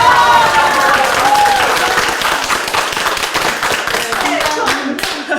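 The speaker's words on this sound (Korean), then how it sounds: "더 큰 박수를 한번" Loud applause and clapping from a crowd of high school alumni classmates at a political gathering ahead of a presidential election, with voices chattering through it.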